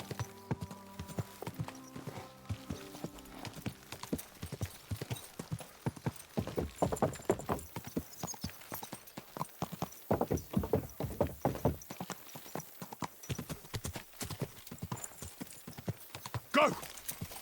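Horse hooves clip-clop in a rhythmic trot with an occasional neigh in the medieval game Kingdom Come: Deliverance II, over soft ambient music, the steps growing louder and faster midway.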